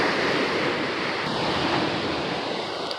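Big ocean waves break along a shoreline, a continuous roaring surf wash mixed with wind buffeting the microphone, steady and fairly loud for three seconds with no talking.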